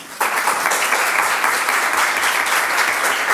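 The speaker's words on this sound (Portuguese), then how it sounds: "gostaria de pedir uma salva de palmas" An audience at a law lecture breaks into applause, a dense, loud burst of clapping that starts abruptly and continues steadily.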